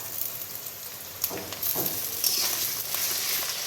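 Garlic, ginger and onion frying in oil for a home-cooked vegetable dish, giving a steady close sizzle with a few brief louder bursts as the pan is stirred.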